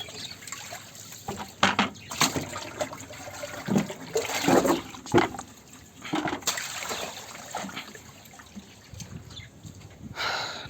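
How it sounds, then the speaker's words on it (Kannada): Dirty water being drained and changed in a home turtle tank, with intermittent trickling, splashing and gurgling bursts of water at close range, pausing between pours; no talking. "ಟ್ಯಾಂಕ್ ನೀರು ಚೇಂಜ್."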